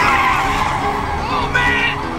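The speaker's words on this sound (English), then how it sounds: "He hit the brakes right in front of me." A car brakes hard and its tires skid with a loud, continuous squealing screech that wavers and rises again near the end, close by.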